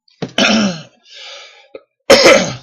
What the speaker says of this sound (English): been drinking milk and it always makes me cough.